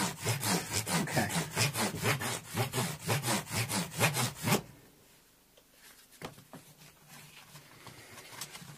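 Guitar frets on a Korean-made Squier Telecaster are polished with very fine abrasive, a steady rhythmic back-and-forth rubbing that runs close and strong for several seconds, then stops, leaving a few faint scrapes and handling noises.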